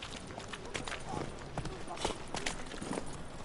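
Horse hooves gallop in The Witcher 3: Wild Hunt, a steady run of clip-clop beats mixed with game ambience and a voice speaking over it.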